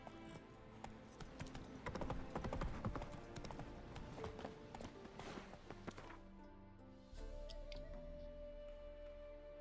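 Horse hooves clip-clop steadily in The Witcher 3 video game, a fairly close, rhythmic trot that slows and settles near the end over a continuous game ambience.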